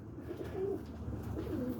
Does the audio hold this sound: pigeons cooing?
yes